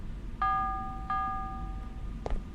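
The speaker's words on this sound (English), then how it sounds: "Why are there constantly bells around here?" Bells chiming in a Mothman video game: two clear bell strikes with ringing tones that slowly fade, followed by a duller clank, heard over a quiet low ambient hum.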